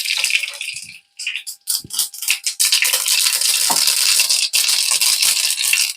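Mustard seeds crackle and pop in hot oil in a home kitchen. The result is a dense, continuous burst of sharp crackling that starts after a brief pause, stays loud and close, and has no voices over it.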